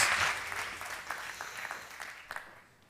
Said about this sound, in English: A round of applause for them as they go back down to the seats.